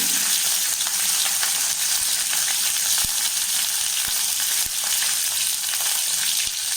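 Curry leaves and garlic fry in hot oil with a loud, steady, close sizzle throughout, broken by a few sharp pops and crackles.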